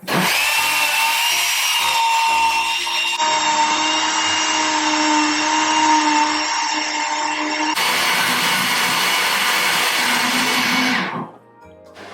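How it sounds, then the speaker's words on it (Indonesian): An electric blender whirs loudly while blending a strawberry milkshake, a continuous high-pitched motor drone with shifts in pitch as the speed changes, running for about eleven seconds before spinning down. "sekarang kita tinggal blend aja dia jadi satu"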